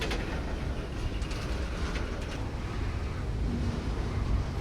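A Canadian National freight train rolls into the yard, heard from a distance as a steady low rumble with faint rail clatter and no talking.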